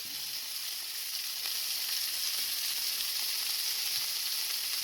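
Bacon lardons sizzling with thyme in olive oil in a pan, a steady, even hiss of frying that fills the whole stretch with no talk.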